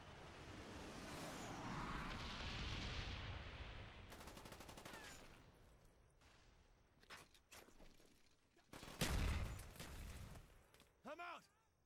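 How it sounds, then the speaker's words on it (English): A napalm strike detonates in a video game, a rolling roar of bursts followed by scattered crackling blasts and a heavy boom near the end, with brief sharp impacts over muffled talk. "Napalm strike inbound."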